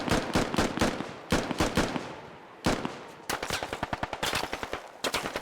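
Rapid automatic gunfire in the video game Squad, fired through a murder hole in a wall, comes in loud, close bursts of several shots each with brief pauses between, ending in a long rattling string.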